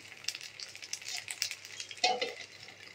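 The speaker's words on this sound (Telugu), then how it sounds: "ఇంకొంచెం వేగాలి." Food fries in a covered pan with a faint, steady hiss and a brief louder crackle near the end, quiet and without talk.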